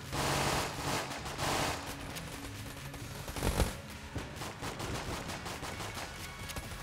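Rapid, dense gunfire bursts out in the modded video game Enter the Gungeon, with overlapping shots in quick flurries and a few heavier blasts, all fairly faint and continuous.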